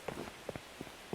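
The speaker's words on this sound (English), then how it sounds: "let's go inside here, not only because of the acid rain" Acid rain in the survival game Miscreated, a soft steady patter on surfaces with a few sharper drops, faint and brief with no talking over it.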